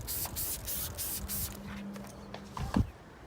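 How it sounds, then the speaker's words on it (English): Several quick hissing spritzes of dish soap and water from a spray bottle onto a 2015 Subaru WRX STI wing spoiler, close by, followed by a brief soft hum and a couple of light knocks. "Then just have a mixture of dish soap or dishwashing liquid. Spray it down, and you want it nice and wet."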